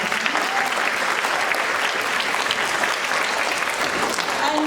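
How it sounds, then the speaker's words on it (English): Steady round of applause from a school audience at a college enrolment event, dense and continuous clapping that fills the whole stretch without a break. "I think they deserve a round of applause for coming on."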